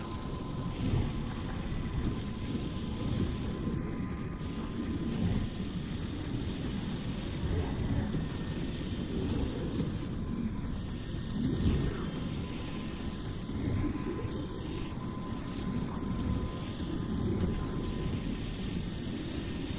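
A low, steady mechanical whirring drones continuously from the middle of a zombies map in a video game, a constant rumbling hum with slight swells and no break throughout.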